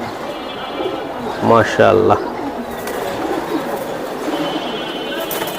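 Silver pigeons coo in a single loud rising-falling call up close, with soft background cooing and someone speaking briefly.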